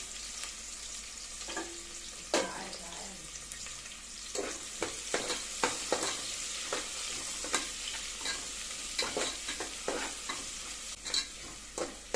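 Chopped large onions stirred and frying in peanut oil in a pan, a steady close sizzle with repeated scraping clicks of a spoon through the pan, no voices.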